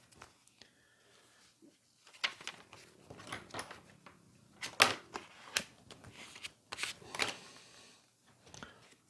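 A paper Christmas card or flip-flop tag being folded by hand, heard as a run of close, light creases, taps and papery clicks that come in uneven bursts.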